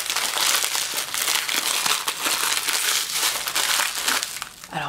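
Crinkly wrapping around a spring Stella & Dot jewelry collection rustles and crackles continuously as it is pulled open, loud and close throughout with no voices.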